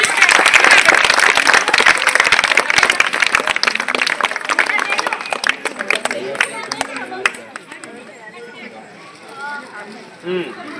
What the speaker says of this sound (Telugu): అందరూ గట్టి క్లాప్స్ కొట్టాలి